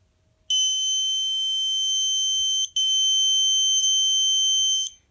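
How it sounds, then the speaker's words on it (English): A Snap Circuits light-activated alarm, triggered by a phototransistor when light is blocked, sounds a loud, steady high electronic tone in two long bursts separated by a brief gap, with no other sounds. "an alarm will sound because the light will be blocked"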